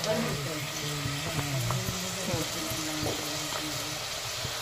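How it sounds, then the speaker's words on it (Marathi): Finely chopped onion is being sautéed in oil in a pot, a steady soft sizzle running throughout, with occasional stirring clicks and a faint background voice. "आता पातेल्यात तेल घेतलं आणि त्यात बारीक चिरलेला कांदा घेतलाय. आता तो चांगला परतून घ्यायचा आपल्याला."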